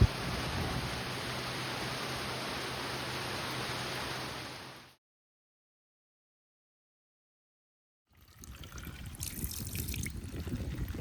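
Steady rain spattering and dripping near a shelter while entering a village on a hiking trek, a dense wash of noise that cuts to silence for a few seconds, then returns slightly softer.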